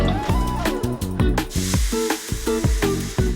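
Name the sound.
sautéing ground spice paste in a wok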